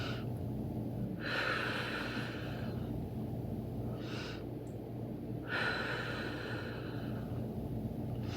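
Deep, audible breaths during a Pilates exercise with a small exercise ball, repeated breathy inhales and exhales of a few seconds each, close to the microphone over a steady low background hum.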